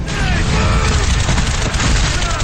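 AK-47 rifle fire erupts from behind a door during a commando raid on Osama bin Laden's compound, a loud, dense and continuous volley of shots with no pauses across the whole stretch.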